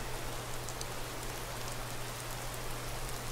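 Steady rain falls in Skyrim, a constant even hiss of drops on surfaces with a low hum beneath and no voices.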